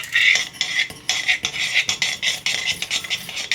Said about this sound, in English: So just mix your chocolate in with your Olivella